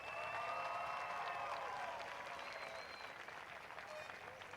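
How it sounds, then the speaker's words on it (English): Sustained applause from a large crowd at a North High School graduation ceremony, steady and dense throughout, with faint whistles cutting through the clapping. "Graduates, if you could please give a round of applause for everyone who has made this day possible."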